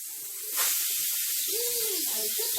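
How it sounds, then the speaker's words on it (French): A pressure cooker on the stove, cooking Moroccan rfissa, lets out a steady steam hiss that rises sharply, with a short wavering whistle tone partway through, close and fairly loud. "الكوكو تبقى تتصفر"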